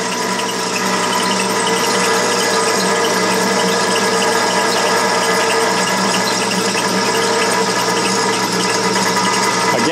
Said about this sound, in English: That's a number 2 center drill in the chuck. And let's get ready to drill.